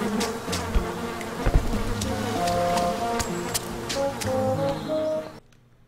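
A swarm of bees in the video game Candle drones loudly and steadily with scattered clicking game effects before cutting off abruptly near the end.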